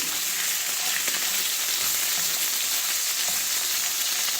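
Continuous bright sizzling of garlic-ginger paste frying in a pan, steady and close, with faint scraping stirs now and then.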